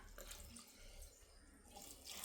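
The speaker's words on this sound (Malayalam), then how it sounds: "ഇനി നമ്മൾ ഇച്ചിരി വെള്ളം കൂടെ ഒഴിച്ചു കൊടുക്കണം." A splash of water pours into a cooking pan of fish, a faint, short, steady gush with no voices.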